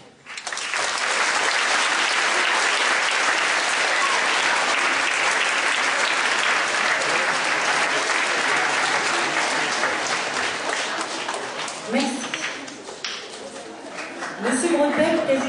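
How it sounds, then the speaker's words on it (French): A large audience claps warmly and steadily at a school choral singing competition's awards ceremony. The dense applause thins out toward the end as a few voices and scattered claps come through. "Je vous invite à les applaudir très chaleureusement"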